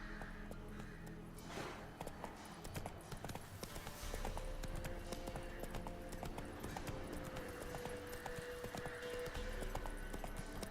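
Horse hooves clip-clopping at a steady gallop in The Witcher 3, continuous and prominent over game ambience and music.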